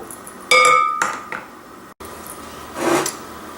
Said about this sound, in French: je mets ça dans un bol pour mélanger le tout